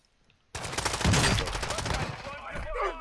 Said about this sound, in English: Mortar strike.